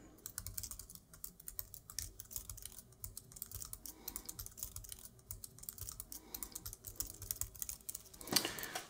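Steady clicking of a computer keyboard as code is written, fast irregular keystrokes close up and fairly quiet, with no talking.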